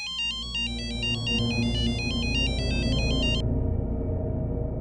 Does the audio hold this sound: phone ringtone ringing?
yes